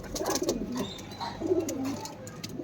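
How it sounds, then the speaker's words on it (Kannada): Fancy pigeons coo softly in a loft, a couple of low, rolling throaty calls close by over faint background chatter and rustling. "fancy pigeons"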